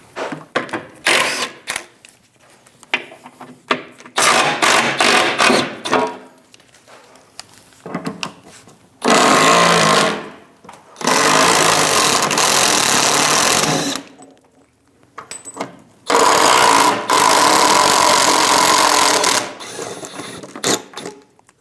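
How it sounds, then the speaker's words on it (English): A socket wrench, fitted with a 15mm socket, ratchets out the bolts of a Chevrolet's bottom shield. Bursts of rapid mechanical clicking come up close, broken by short pauses, with no talk. "Using a 15mm socket, remove the bolts for the bottom shield."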